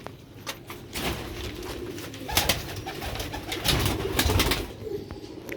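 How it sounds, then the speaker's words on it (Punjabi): Sialkoti pigeons of an old breed coo softly in a loft, low repeated calls mixed with wing flutters and scuffling at close range, with no talking. "ਸਿਆਲਕੋਟ ਬਟੇਰੇ ਕਬੂਤਰ 20 ਨੰਬਰ ਬਰੀਡ।"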